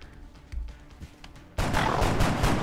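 Heavy, loud gunfire from XCOM: Enemy Within, starting with a couple of softer shots before a sustained dense burst of firing fills the last second, with no talking over it.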